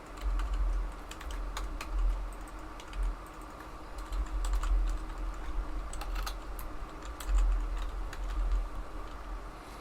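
Steady typing on a computer keyboard, close and clear, with irregular clicks and brief pauses between bursts and no voices.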